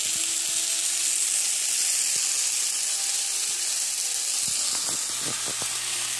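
Tomatoes sizzle and fry in a pan with a steady, close hiss, broken by a few soft pops and clicks toward the end.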